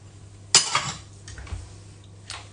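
Stirring sablé cookie dough with an added egg yolk in a bowl, a few scraping clinks of a utensil against the bowl, one sharper knock then softer strokes, fairly close and quiet.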